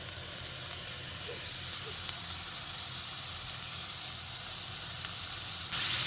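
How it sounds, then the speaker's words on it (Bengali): Fried onion paste goes into egg curry masala sizzling in oil in a pan, giving a soft, steady hiss with a few faint clicks near the end. "এবার এই পর্যায়ে আমি বেরেস্তা ভাজার পেস্টটা দিয়ে দিচ্ছি"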